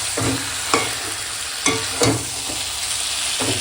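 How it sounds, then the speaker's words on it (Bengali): Goat meat being sautéed dry in a pan with no water, a continuous sizzle broken by a few sharp scrapes of a spoon against the pan, close and fairly loud. "দেখো কত সুন্দর করে মাংসটা কষাচ্ছি একটুকু জল দিইনি কিন্তু শুধুই কষাচ্ছি"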